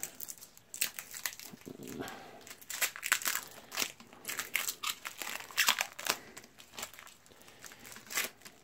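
Crinkly tape being peeled and handled on a faulty PC keyboard, close-up and fairly quiet, with irregular crackling rustles throughout.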